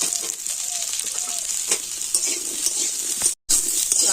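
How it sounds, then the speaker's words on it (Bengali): Potato and ridge gourd fry in a pan with a close, continuous sizzle, broken by the scrape and clatter of stirring and one brief cut to silence near the end. "তো আলু আর ঝিঙেটা কিন্তু হালকা করে ভেজে নিয়েছি।"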